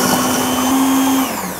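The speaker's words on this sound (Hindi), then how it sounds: "अब अच्छे से ब्लेंड कर लेंगे।" A kitchen blender whirs loudly and steadily as it blends mango and pineapple with milk and yogurt into a smoothie, a close motor whine that eases off right at the end.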